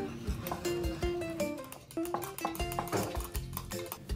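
Flour and cornstarch stirred together in a bowl, with light irregular clinks and scrapes of the utensil against the bowl, soft and close over faint background music.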